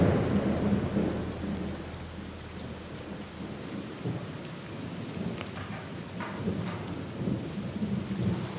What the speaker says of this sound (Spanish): más allá de la lluvia que está afuera, la lluvia torrencial